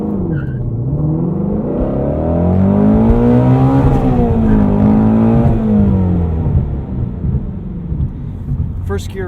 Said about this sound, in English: let's do a little 0 to 60 run here